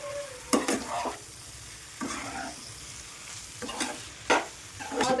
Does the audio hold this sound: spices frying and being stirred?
yes